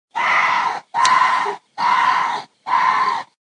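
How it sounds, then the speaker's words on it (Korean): A water deer (gorani) gives four loud, harsh scream-like cries in even succession, each lasting roughly half a second and heard close and alone. "조현민의 샤우팅을 닮은 고라니의 울음소리"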